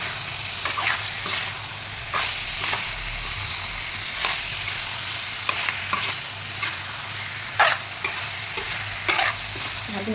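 Chicken pieces and cauliflower frying in a pan, stirred with a utensil; a steady sizzle runs underneath while repeated scraping strokes land every second or so, close and fairly loud, with no one talking.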